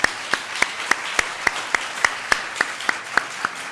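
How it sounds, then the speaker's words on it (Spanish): An audience at a talk honoring Laurence Debray applauds in thanks, a broad wash of clapping with a steady rhythmic beat of sharp unison claps about three per second running through it. "Laurence un aplauso en agradecimiento."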